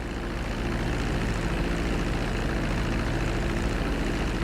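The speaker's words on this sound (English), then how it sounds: "Now let's get the plane off the runway. Taxi over to the marked area and come to a complete stop." A plane in Grand Theft Auto V flight school taxis on the runway, its engine holding a steady, continuous drone with a low throbbing hum throughout and no break in the sound.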